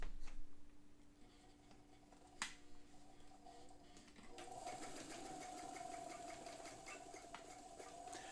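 A White 568 sewing machine from the early 1960s runs under foot-pedal control, its needle whirring and ticking steadily and then speeding up into a faster, louder hum, close by with no talking.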